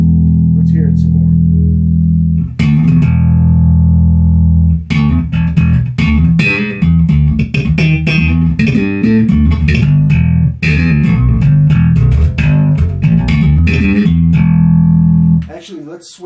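A Sadowsky Metro Express bass guitar plays a run of punchy, close, full notes with a busy plucked rhythm. Sustained low tones open and close the passage.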